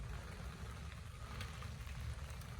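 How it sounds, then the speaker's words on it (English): Heavy rain falling outdoors, a dense and continuous patter with no breaks, steady and fairly quiet throughout, heard with no talking. "it's starting to rain hard again"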